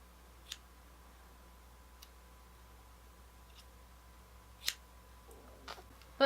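Scissors snip through synthetic wig fibres in a quiet room, a few sparse, sharp clicks spaced seconds apart, faint and isolated with no talking.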